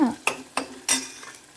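Onions for capsicum curry are stirred in a pan with a metal spoon, giving four quick, close clinks and scrapes over a faint sizzle.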